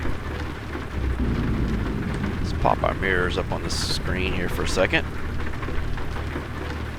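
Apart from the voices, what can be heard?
pouring rain in American Truck Simulator video game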